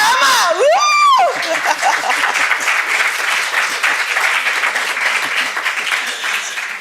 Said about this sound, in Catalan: Un aplaudiment per al lingüista del meu programa!